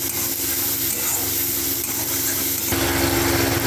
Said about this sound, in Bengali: সমস্ত মশলাটা একটু ভালো করে ভেজে নেব।